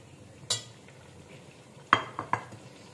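Round-cut potatoes being mixed into keema in a pan, a few sharp metallic clinks of a spoon against the pan, one early and a cluster of three later, close but fairly quiet over a low hum.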